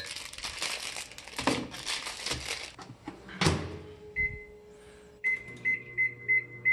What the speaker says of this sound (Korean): 전자레인지용 팝콘입니다